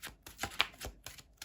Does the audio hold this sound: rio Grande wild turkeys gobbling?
no